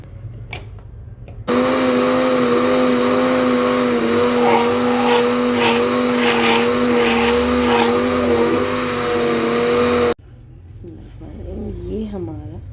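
A kitchen mixer grinder blends papaya leaves with water in a loud, steady high-pitched whir for several seconds. A voice comes before and after the motor runs.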